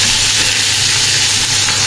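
Pabda fish frying in oil in a pan, a loud steady sizzle with dense crackling hiss throughout, close up and continuous with no talking.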